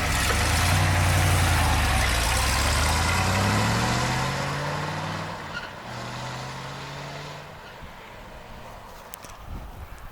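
A big-block Corvette V8, off the road for over 30 years, rumbles loudly near at hand, revving and then settling into a lower, steadier idle.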